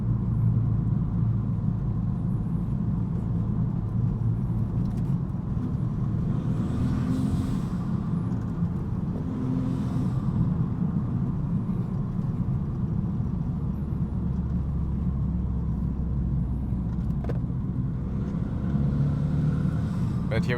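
A Renault Megane RS drives on the road, its engine a steady low rumble heard from inside the car over tire and road noise, with a few swells in intensity and faint passing sounds.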